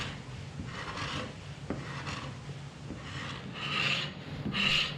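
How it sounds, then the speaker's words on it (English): Chisel scraping soft, gummy glue residue off a cured epoxy surface in a workshop: repeated raspy strokes in an uneven rhythm, close and fairly quiet, with no talking. "you can indeed scrape it with the chisel"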